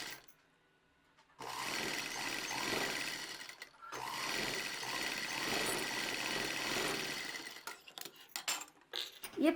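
A sewing machine runs in two long, steady stitching bursts along a one-inch fabric strip for a frill frock, a close, even mechanical whir with a short pause between runs, ending in a few clicks.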